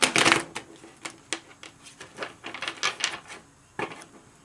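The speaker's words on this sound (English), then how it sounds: "One more shuffle." Cards are riffled and shuffled close up: a loud burst at first, then a string of soft, irregular slaps and flutters with brief pauses.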